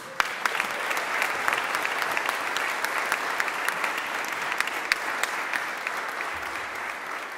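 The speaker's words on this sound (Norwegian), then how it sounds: "En liten applaus." An audience in a concert hall claps continuously to welcome a pianist, a thick, even wash of applause with a few sharper claps standing out and no speech.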